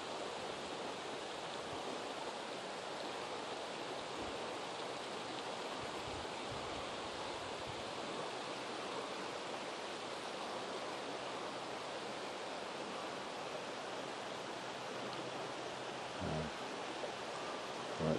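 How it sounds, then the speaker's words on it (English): Deschutes River water flowing near Chambers Lake, a steady broadband rush that stays even and continuous throughout, with no voices, only a faint low thump near the end. "Down to the river."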